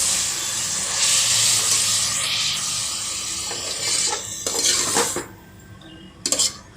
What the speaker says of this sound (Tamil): மறுபடியும் நல்லா கரண்டி எடுத்து நல்லா வதக்கிக்கோங்க